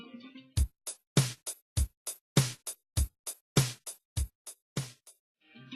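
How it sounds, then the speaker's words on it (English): A typical pop drum pattern of kick and snare hits in a steady, repeating rhythm, about fifteen crisp, clear strikes spaced evenly over several seconds, with faint talk at the edges. "In pop music, the rhythm is typically expressed by one dominant drumming pattern,"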